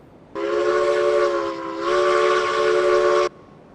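Steam locomotive whistle in the railroad game Railroads Online, sounding one long, steady, loud multi-tone blast of about three seconds, clean and alone.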